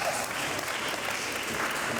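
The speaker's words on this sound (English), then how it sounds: "Round of applause for him." Steady audience applause at a speed-dating event, a dense, even wash of clapping with no break for its short length.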